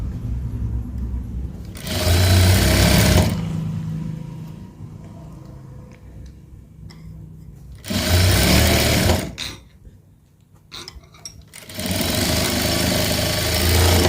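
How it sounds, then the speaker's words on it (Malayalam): Domestic sewing machine stitching piping onto a garment sleeve, heard in three loud whirring bursts of steady running separated by quieter pauses of handling, with no talk. "ഇത്ര വീതിയിലാണ് ഞാനിപ്പോൾ പൈപ്പിംഗ് തയ്ച്ചെടുക്കുന്നത്."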